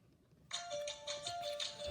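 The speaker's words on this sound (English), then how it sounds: "and there goes my phone." A phone ringtone starts suddenly and rings steadily, close and fairly loud, with a repeating bright electronic tone that continues to the end.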